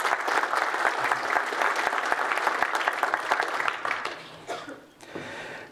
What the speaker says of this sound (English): So I really like to give them a big round of applause quickly.